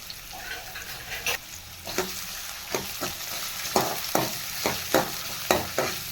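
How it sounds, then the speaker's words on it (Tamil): Sliced onion fries in hot oil for a chapati kurma, with a steady sizzle punctuated by regular scraping strokes of a spoon stirring through the pan, close and clear with no talk. "எண்ணெய் நல்லா காஞ்சதும் இந்த வெங்காயம் சேர்த்துக்கலாம் வெங்காயம் நல்லா வணங்கணும்"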